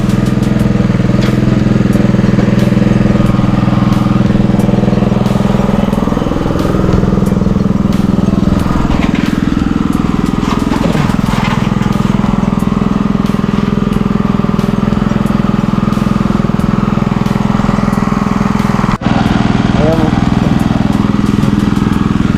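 A small engine powering a water pump runs steadily and loudly close by for the whole stretch, a constant low drone with no pauses and no talk over it.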